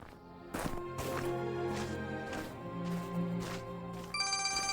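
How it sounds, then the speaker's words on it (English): A cell phone rings in a cartoon scene, a short electronic ringtone sounding near and clear among quiet background sounds, with no talk over it. "A phone! Someone's got cell service!"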